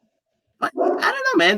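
A dog barks close by in short, loud bursts, with someone talking over it.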